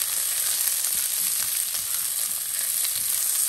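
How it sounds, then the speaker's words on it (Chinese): Bell pepper slices stir-fried in a wok with a little vegetable oil, scallion, ginger, garlic and dried chili, giving a steady, dense sizzle with faint scraping of the stirring, close and continuous throughout. "翻炒一两分钟，"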